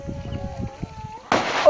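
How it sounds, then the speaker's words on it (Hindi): A sudden sharp burst of a Diwali firecracker near the end follows a stretch of quiet rustling and low sounds, the crackle continuing loudly to the close. "एक और पटाखा फूटने वाला है।"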